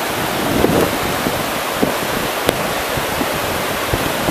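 Flooded Pamisos river at Mouzaki rushing past, a steady broad roar of fast water that stays loud and constant throughout, with occasional faint knocks and no talking.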